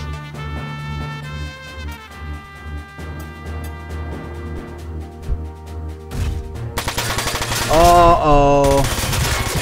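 Machine gun fire in the video game Front Mission 4, with a rattling burst rising loudly in the later part over game music, and a brief spoken remark.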